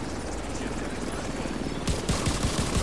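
A helicopter in the video game The Division 2 thrums steadily with a dense rotor drone, joined near the end by several sharp bursts of gunfire.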